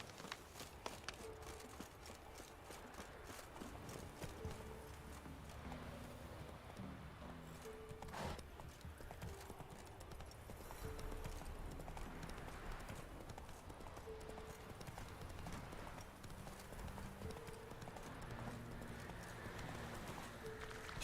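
The horse Roach gallops in The Witcher 3, with steady rhythmic clip-clop hoofbeats running throughout alongside game music and ambience, without any talk.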